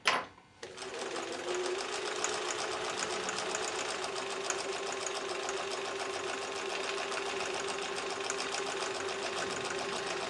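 A sewing machine stitching quilt block seams for a mini mosaic block, running in one steady, even whir after a short start, close and alone throughout.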